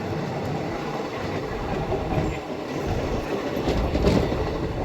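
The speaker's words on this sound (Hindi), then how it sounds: "जो ट्रेन आ रही है तो हज़रत निजामुद्दीन की तरफ से आ रही है।" An Indian passenger train approaches from the Hazrat Nizamuddin direction near New Delhi, its steady rumbling roll and clickety-clack of wheels on rails running loud and continuous with no voices.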